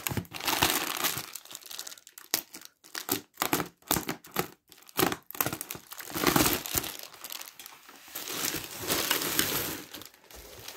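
Air-filled plastic packaging film from a ski and snowboard helmet unboxing is crinkled and crushed by hand, with dense crackling bursts broken by short pauses, close and continuous.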